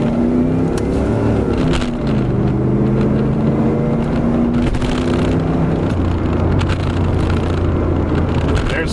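A Pontiac F-Body car driving on a dirt road, engine droning steadily and close with a few gear-change shifts in pitch, under constant wind and road rumble.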